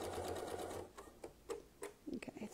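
A sewing machine does free-motion quilting through double batting, giving short faint bursts of stitching with pauses between them, a few quick clicks near the end, and a soft voice in the background.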